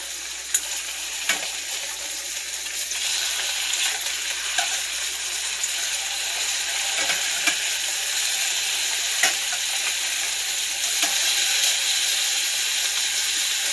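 Honey mustard chicken pieces sizzle steadily in a hot pan, a dense bright crackle with occasional sharper pops, close up and continuous with no talking.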